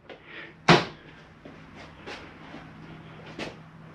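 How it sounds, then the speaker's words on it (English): A shower door in a Redwood 3981FK RV snaps shut with one sharp plastic clack, followed by a few lighter knocks and clicks in a small quiet room. "Shower door, make sure that's snapped in there nice and tight."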